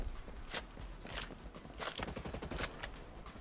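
Rapid gunfire bursts crackle through a Ghost Recon Breakpoint firefight, with repeated sharp shots in quick irregular clusters, fairly faint and without talk.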